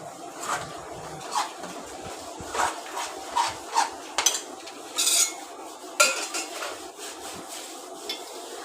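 Masala and spice powders are being stirred in a pan for an egg curry: a spoon scrapes and clinks against the metal in short irregular strokes, close and clear, with a soft sizzle underneath and nobody speaking.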